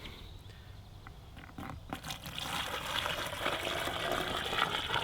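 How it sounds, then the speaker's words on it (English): Water poured from a bucket into a rubber muck boot, a faint rushing, gurgling fill that grows louder and steadier after a couple of seconds, with no talk. "We are gonna fill both of these boots up with water."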